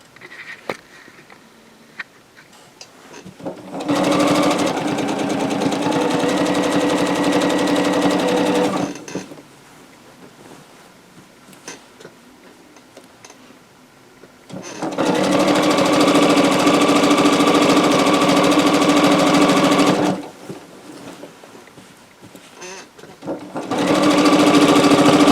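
Sewing machine stitching a minky quilt in three long bursts of fast, even mechanical whirring, separated by quiet pauses, loud and close.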